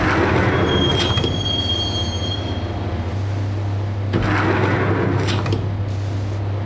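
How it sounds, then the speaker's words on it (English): A subway train ride in Max Payne on PS5, a loud continuous rumble of the railcar with squealing wheels on the rails and bursts of rattling as the carriage moves, steady and close, no voices. "the train doors had already shut behind me, and I was in for the ride"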